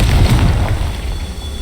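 A Confringo spell blast in the Hogwarts Legacy video game: a single loud, deep boom that rolls out and slowly fades, with no voices over it.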